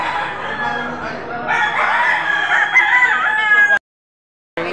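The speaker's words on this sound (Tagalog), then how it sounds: "Napakagandang manok." Roosters crow repeatedly at a busy livestock auction market in Padre Garcia, Batangas, several calls overlapping close by for a few seconds before an abrupt cut to silence.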